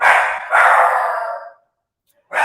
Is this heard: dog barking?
yes